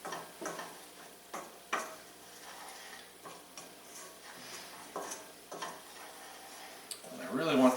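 A spoon stirs shallots in a pan, giving a series of soft scraping strokes and light clicks at an uneven pace with a faint sizzle beneath.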